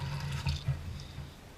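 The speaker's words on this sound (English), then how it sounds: "and I fill that with hot water" Hot water pours into a small butter dish, a steady close splashing rush with a low gurgling undertone that eases slightly toward the end.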